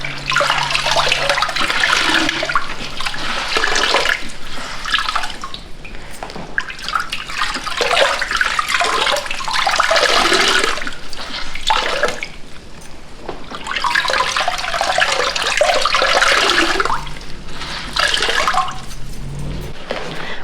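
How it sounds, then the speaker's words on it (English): Wet baby clothes being squeezed out over a wash tub, water streaming and splashing in repeated loud surges with brief pauses between squeezes. "squeeze out excess water"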